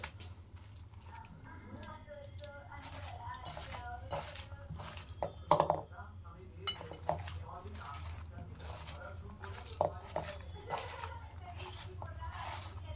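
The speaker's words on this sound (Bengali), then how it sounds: "এবার সব জিনিসগুলোকে খুব ভালো করে মেখে নেব" Hands squishing and mixing potato, eggplant, beans and rohu fish pieces with oil in a bowl, giving soft wet squelches and occasional clinks, under steady talking.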